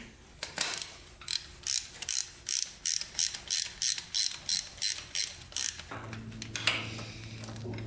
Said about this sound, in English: Alright, we got the spark plug out of here.